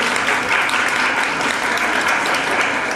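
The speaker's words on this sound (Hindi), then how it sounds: "तालियों से स्वागत कीजिए एक बार।" An audience at a World Hindi Day celebration claps steadily to welcome a guest, a dense, even wash of applause from a full room with no voices over it.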